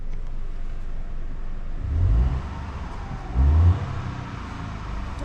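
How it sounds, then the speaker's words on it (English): Ford Focus 1.0 ST Line X engine idling steadily up close, with two short revs lifting its low rumble before it settles back to idle. "the car responds well under throttle and goes back to idle"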